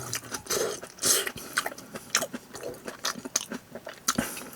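Close, wet chewing of cooked, soft banana shallot, a series of irregular bites and mouth sounds with brief throat noises and no talk.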